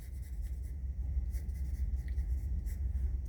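Pencil sketching a fox on paper, a close, continuous scratchy rubbing of graphite with short repeated strokes and no talking.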